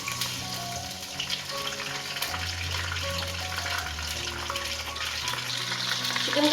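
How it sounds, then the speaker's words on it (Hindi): Chicken pieces sizzle and crackle steadily in hot oil in a karahi for a Shinwari chicken karahi, a dense continuous frying hiss with faint stirring and no voices. "ऐसे टर्न करेंगे 5 मिनट इधर कुक करना है इसको ऑयल में।"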